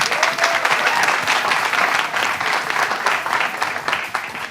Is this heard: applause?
yes